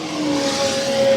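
Midget race cars at a Southern States Midget Series feature at Screven Motorsport roar on the track, a steady high engine drone with rising pitch as one car opens up off a turn.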